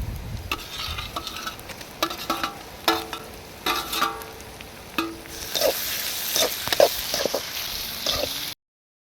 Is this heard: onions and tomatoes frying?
yes